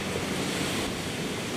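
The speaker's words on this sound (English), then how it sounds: "The action of the pounding surf" Pounding ocean surf breaking on a beach, a dense, rushing roar with wind buffeting the microphone, steady and loud throughout the short stretch, with no voices.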